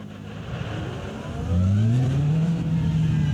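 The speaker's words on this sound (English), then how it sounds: "Listen to that flat plane crank V8." A flat-plane crank V8 race car at Magny-Cours rises from a rumbling drone into a loud, climbing engine note at a season finale, heard continuously and close, with steady harmonic whine as revs build and hold.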